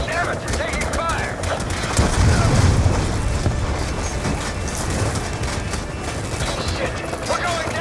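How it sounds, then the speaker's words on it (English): Dense gunfire and explosions from Call of Duty: Black Ops 2 as a helicopter comes alongside a barge and takes fire, a loud continuous battle roar with heavy low booms peaking midway, under mixed voices. "Damn it, you're taking fire."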